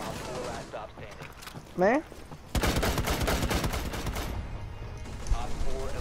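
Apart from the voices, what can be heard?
gunfire in Rainbow Six Siege video game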